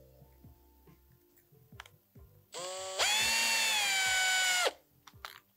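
A power drill bores a rivet hole through an aluminium can lid, one loud, high, whining burst of about two seconds that steps up in pitch midway, framed by light handling clicks and taps.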